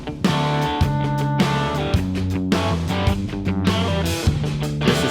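A rock drum mix processed through the Universal Audio Sound City plugin, heard as a loud, full, continuous mix with a steady beat and a sustained tonal backing, with no talking.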